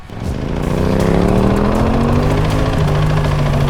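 A 2022 Husqvarna 701 supermoto single-cylinder engine revs loudly and close by, its rising pitch climbing smoothly, then briefly dipping and holding a steady high note, with no voices.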